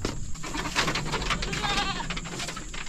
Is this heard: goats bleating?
yes